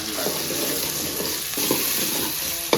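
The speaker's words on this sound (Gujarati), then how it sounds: "આપણે ડુંગળી ને મરચાં પકાવવાના છે" Onions and chillies fry in a pan for a Gujarati pomfret curry, giving a steady, dense sizzle at close range with faint scrapes of stirring and one brief clink near the end. No one speaks.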